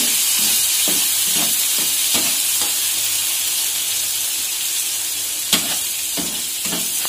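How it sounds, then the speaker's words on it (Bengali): Masala frying in oil in a pan, sizzling steadily after a splash of water is added, a loud dense hiss with occasional soft stirring taps and one sharp clink, no talking. "এই হাতে করে সামান্য একটু জল দিলাম"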